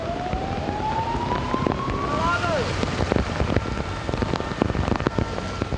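Heavy rain pours steadily over a street in Ankara during an evening downpour that floods the roads, a constant broadband hiss with a rising siren passing through and scattered clatter on top.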